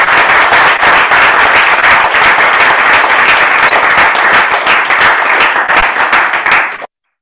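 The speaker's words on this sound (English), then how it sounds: "I just want to give a round of applause" Loud, dense applause from a conference audience, continuous clapping that fills the space for several seconds before cutting off abruptly.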